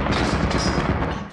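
Rapid gunfire in the video game Lethal Company, a dense continuous burst of shots and thuds that stays loud and busy throughout.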